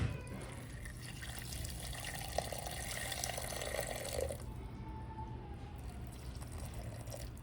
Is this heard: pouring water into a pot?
yes